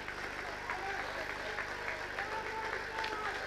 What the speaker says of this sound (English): He gets a round of applause.